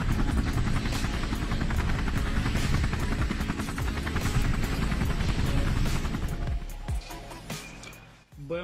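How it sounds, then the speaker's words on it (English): Military helicopters attacking enemy positions in the Russia–Ukraine war, a loud continuous rotor thump and turbine roar with rapid blade chop that dominates, then drops away abruptly toward the end, leaving quieter rumbling. "Helicopters work on enemy positions with the aim of suppressing them."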